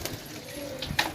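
A pigeon gives a brief low coo close by, and a short bright chirp follows near the end.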